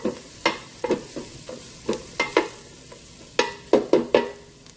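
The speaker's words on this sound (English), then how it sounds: "we're going to cook that garlic for about 30 seconds is all" Garlic sizzles in a hot Ninja Speedi cooker, with sharp intermittent crackles and pops over a low frying hiss, close up.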